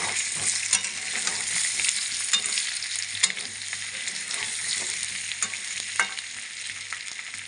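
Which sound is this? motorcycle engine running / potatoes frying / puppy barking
potatoes frying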